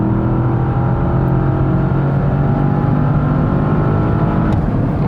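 A 2021 Porsche Panamera Turbo S facelift sedan accelerates hard on a racetrack, a loud, close, sustained engine roar with rising tones as it pulls, and no voices.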